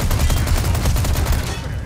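Enemy gunfire in the video game Resident Evil 4, a loud, dense burst of rapid automatic shots rattling continuously with heavy low-end thump throughout.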